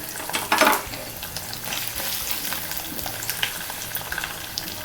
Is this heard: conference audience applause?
no